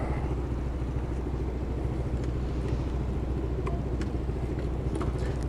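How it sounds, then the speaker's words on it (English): A kick-started motorcycle engine runs at a steady idle with a low, throbbing rumble and occasional light clatter, close by. "Let's kick the bike alive"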